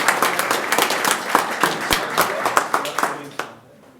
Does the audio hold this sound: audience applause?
yes